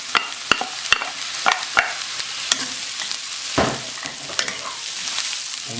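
Mushrooms sizzling in a frying pan for a cream sauce, a steady hiss punctuated by repeated clinks and scrapes of stirring, close and fairly lively.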